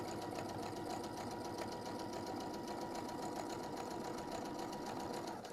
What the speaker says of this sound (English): So we're going to sew until we get to the corner